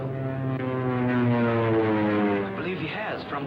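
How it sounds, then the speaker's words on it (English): A scout plane's engine drones overhead in a radio drama, a steady tonal hum that swells and slowly shifts in pitch as the aircraft circles. "There's a scout plane. I hope he spots our signal."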